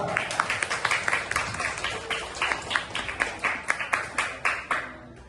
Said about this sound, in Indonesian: Coba tepuk tangan lagi buat Farah.